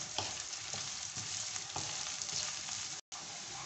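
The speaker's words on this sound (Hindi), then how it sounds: "अब इसी कढ़ाई में हम ऐड कर देंगे ये प्याज, इसे भी हम हल्का सा गोल्डन कर लेंगे।" Onions frying in a kadhai, a steady close sizzle with soft rhythmic stirring knocks, continuous apart from a very brief dropout near the end.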